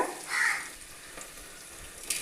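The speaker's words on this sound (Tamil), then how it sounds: "வெங்காயத்தை சேர்க்கலாங்க. நல்லா வறுத்து விட்டுக்கோங்க." Onions frying in a pan with salt for a fish curry, a soft continuous sizzle with a brief louder burst near the start and a faint tap toward the end, quiet and without talking.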